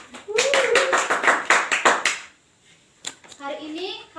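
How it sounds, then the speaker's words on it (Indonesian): A classroom of children claps together in a brief burst of roughly two seconds, the quick, uneven claps dense and close, then stops; children's voices chatter and call out around the clapping. "Tepuk tangan untuk kita semua."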